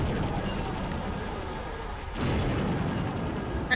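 Remote bombs detonating in the vehicular combat game Twisted Metal 2, a loud, continuous rumbling barrage of booms with a brief dip midway before the blasts resume.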